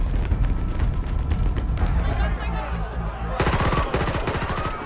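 Rapid gunfire crackles in bursts during a shootout in an action film, building into a dense volley of sharp shots near the end, mixed with background commotion.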